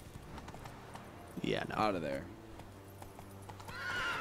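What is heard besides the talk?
horse hooves and whinny in Witcher 3 video game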